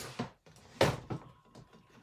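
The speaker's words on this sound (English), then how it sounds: "Something is caught in my drawer." A drawer with something caught inside is tugged open, giving a few short, close thunks and scrapes spaced irregularly over a couple of seconds, quiet and without voices.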